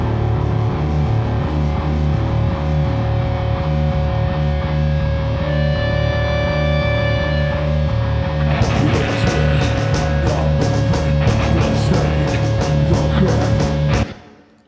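A bass guitar through Ashdown and Orange Rockerverb 100 amps plays a thick, distorted, rhythmic riff. Partway through, crashing cymbals and drums join in, and the full band plays loud and dense until a sudden stop.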